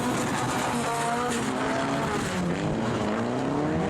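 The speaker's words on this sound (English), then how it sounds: "Colin Carberry seems to have spun there." Drift car at a Driftfest round in Fermoy spinning out, with loud, continuous engine roar and sustained tire squeal and skidding throughout, heard up close.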